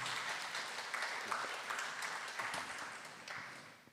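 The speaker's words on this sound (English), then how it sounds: "Please give another round of applause to our speakers today." Applause from an audience at an international academic symposium, a soft continuous patter of many hands heard from a distance, fading slightly toward the end, with no talk over it.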